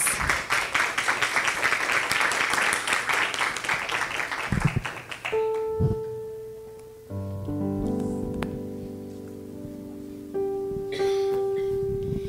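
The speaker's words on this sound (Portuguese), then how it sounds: "Aplaudamos a palavra de Deus." Church congregation applauding for about five seconds, a dense wash of many hands, before sustained keyboard or organ chords take over and continue to the end.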